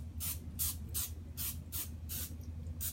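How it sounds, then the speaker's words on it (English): Olive oil cooking spray misted onto a baking dish in a series of short hissing bursts, about six quick sprays in steady rhythm over a low background hum, close and fairly quiet. "Just gonna give it a little shot of cooking spray, some olive oil spray."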